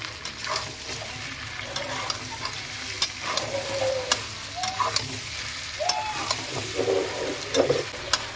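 Spice paste of nuts and dry spices being stirred into frying chicken curry, a spoon scraping and clinking against the pan over a steady close sizzle, with sharp metallic taps at intervals and no voices.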